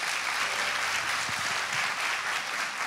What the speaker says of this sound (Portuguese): Pode aplaudir de Jesus pela vida deles?